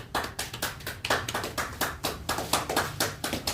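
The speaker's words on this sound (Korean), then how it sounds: "하나님께 영광의 박수 올립니다." A church congregation claps together in a steady, even rhythm for about three and a half seconds, sounding moderately close and with no voices over it.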